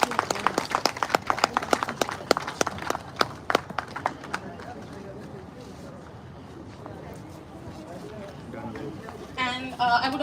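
Applause at a book launch event, dense crowd clapping fairly loud at first, thinning out over several seconds, then a voice speaking as the clapping dies.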